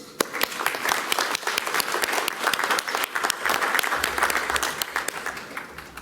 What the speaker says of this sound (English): Please honour them with your applause.